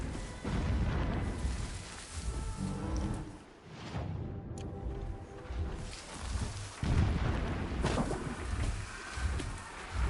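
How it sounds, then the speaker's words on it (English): Deep rumbling booms roll in from far off, several muffled blasts blending into a continuous low roar, distant explosions in the PS5 video game Horizon Zero Dawn. "Don't pay attention to the explosions in the distance."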